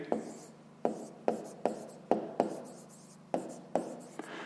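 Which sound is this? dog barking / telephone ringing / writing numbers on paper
writing numbers on paper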